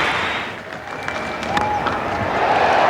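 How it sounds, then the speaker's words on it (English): A crowd at a 1993 New Zealand versus Australia one-day cricket match applauds a batsman's fifty, a steady wash of distant clapping that swells slightly toward the end. "A good crowd here appreciate a fine player."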